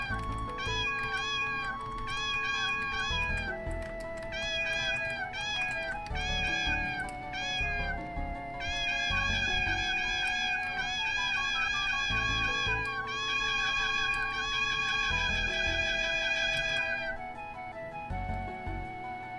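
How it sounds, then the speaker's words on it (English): Cat meowing repeatedly in a video game, high plaintive cries in quick runs and longer drawn-out calls, loud and close over game background music, with no talking. "It's a kitty!"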